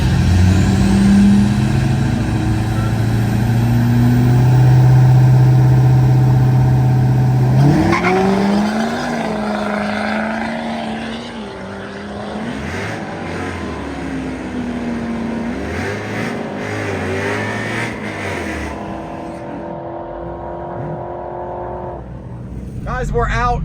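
A heavy diesel engine of an LMM Duramax truck roars and revs hard on a drag strip, climbing in pitch as it accelerates, then the drone fades and shifts as the truck moves off.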